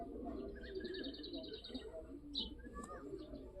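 Racing pigeons coo and chirp softly in a loft, faint repeated calls over a low background hum while someone talks nearby.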